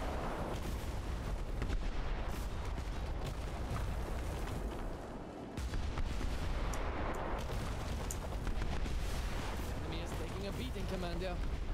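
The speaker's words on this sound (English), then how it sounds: "Oh, he shot so much." Cannon fire from airships battling in the game Airship: Kingdoms Adrift, with dense, repeated booming volleys over a busy battle soundscape and game music.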